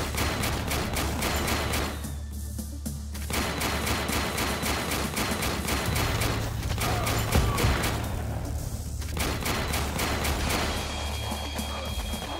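Cannon and gunfire in the Warpips war game crack out in rapid, dense volleys, a near-continuous rattle of sharp bursts with brief pauses and heavier booms mixed in, loud and without talk.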